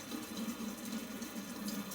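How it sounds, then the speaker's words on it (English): Running water pours steadily from a kitchen faucet while hands are rinsed under the tap, a continuous close splashing hiss with no talking. "Let me wash my hands again."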